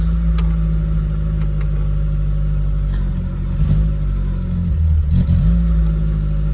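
A VW Polo breadvan engine runs with a little choke on, idling steadily up close with a couple of short revs rising and settling back.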